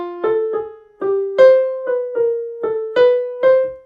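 A bebop line built from the blues scale plays as a steady run of about a dozen single instrument notes in even eighths, moving chromatically, clean and close with no accompaniment.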